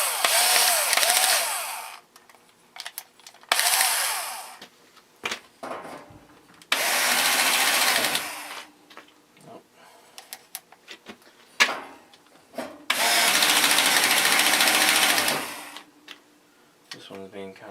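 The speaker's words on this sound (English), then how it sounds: "I'm going to finish tightening them up with the drill." Cordless power drill on a low setting tightening nuts on a vintage GE window ventilator fan, three sustained whirring bursts with short clicks between, close and loud.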